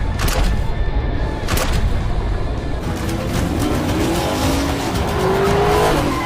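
Movie car chase with cars racing, engines roaring and tires squealing and skidding, loud and continuous with no talk.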